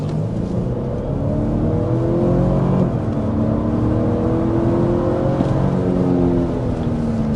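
A 2025 Cadillac Escalade with a 6.2-liter naturally aspirated V8 accelerating past 60 mph, heard as a steady, loud rising engine drone with road and wind noise inside the cabin.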